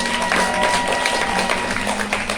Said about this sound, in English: Give me a big clap, everybody.